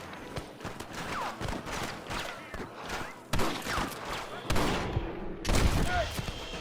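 Rapid volleys of gunfire in a Red Dead Redemption western shootout, sharp repeated cracks scattered across the scene with shouting voices and a few louder blasts near the end.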